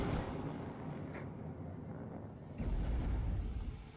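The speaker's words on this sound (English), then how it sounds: "I just go ahead and bomb it with the MiG-21Bs." Bombing run by MiG-21B jets in the military strategy game WARNO, heard as a steady low rumble of distant explosions that swells into a louder, heavier blast partway through, with no talk.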